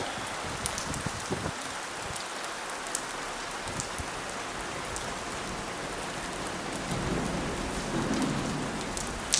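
Steady rain falling outdoors in the hill town of Volterra, Italy, a continuous dense hiss with occasional louder drips and a faint low rumble, with no one speaking.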